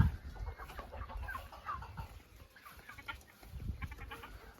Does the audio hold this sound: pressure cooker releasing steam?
no